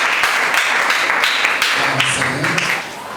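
A church congregation at a consecration service applauds, a sustained bed of dense clapping with brief faint voices rising near the end as the volume eases off.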